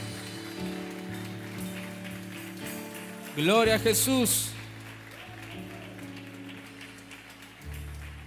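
Church congregation bursting into loud applause and cheering during a Sunday morning Spanish-language service, a short burst in the middle amid ongoing worship music, with a voice speaking before and after.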